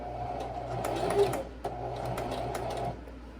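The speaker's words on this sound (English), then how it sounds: "Don't sew over my pins." A sewing machine stitches a fabric face mask, running in two steady close bursts of rapid mechanical whirring with a brief pause between them and no talking.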